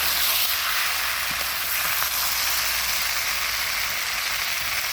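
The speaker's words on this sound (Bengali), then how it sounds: "খুব সুন্দর করে তরকারি কষা নিচ্ছি।" Chicken curry sizzles loudly and steadily while being stir-fried in a pan, with faint scraping from stirring.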